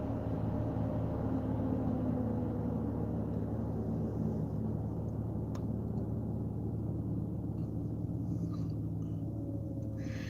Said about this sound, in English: Well, there goes my fan again. Man, sounds like an airplane taking off.